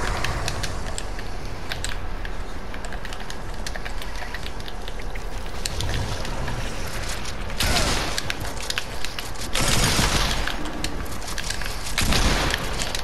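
Dense, continuous gunfire in Fortnite creative mode, a steady crackling barrage throughout with louder bursts of shots toward the end, no talk.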